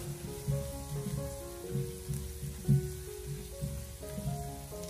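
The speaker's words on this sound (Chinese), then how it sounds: "接着再把切好的姜蒜放进锅中，开小火给它翻炒一下，把姜蒜给它爆出香味" Ginger and garlic sizzle softly in a little oil over low heat in a wok, a steady close fizz with occasional scrapes of a spatula stirring, under a faint tonal hum in the background.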